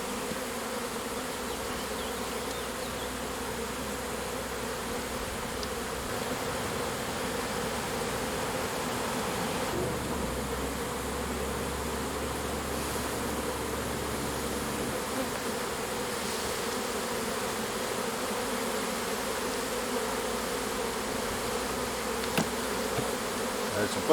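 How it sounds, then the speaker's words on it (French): A swarm of honeybees buzzing steadily and densely up close, a continuous droning hum that holds for the whole stretch without pause. "Il y a quand même pas mal d'abeilles"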